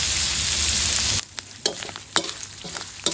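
Pork sizzling and frying in its own rendered fat, a loud dense hiss that breaks off abruptly and gives way to intermittent scraping stirs and crackles.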